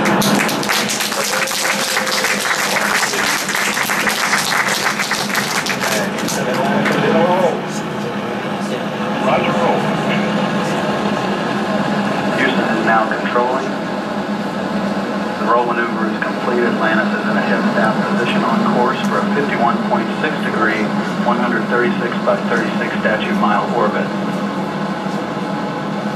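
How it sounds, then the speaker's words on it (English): Space Shuttle Atlantis on mission STS-132 lifts off with a loud, sustained broadband roar that opens with heavy crackle and then settles into a steady rumbling wash, with an announcer's voice running over it. "And liftoff of Space Shuttle Atlantis"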